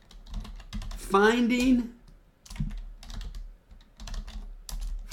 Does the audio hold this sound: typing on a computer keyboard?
yes